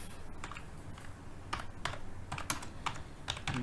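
Computer keyboard keys tapped out in a quick, irregular run of light clicks, typing a command for plotting a graph in MATLAB, close and clear over faint room hiss.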